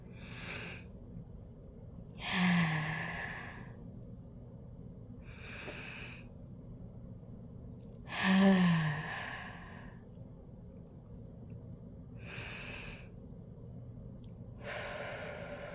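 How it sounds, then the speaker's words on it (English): A person taking three slow, deep breaths, each a long airy inhale followed by a longer exhale, close and alone in a quiet room. "let's take 3 deep breaths before going into the poetry"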